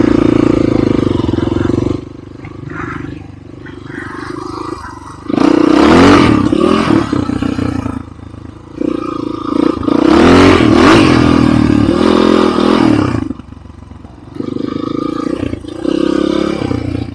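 Two enduro motorcycles, a Regul Moto Sport 003 and an Ataki 300, rev loudly in repeated surges and roaring throttle blips with brief idling dips between, close by on a May trail ride.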